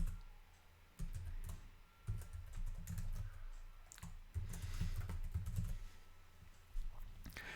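Someone types a template name on a computer keyboard in a virtualization management interface: irregular, close key clicks in short bursts with brief pauses, and no talking over them.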